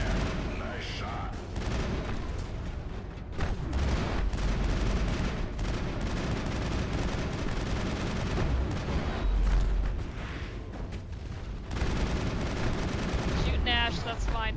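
Mass Effect combat brings sustained gunfire, rapid shots and bursts layered with heavier booming impacts that continue nearly without a break, while voices speak intermittently over the shooting.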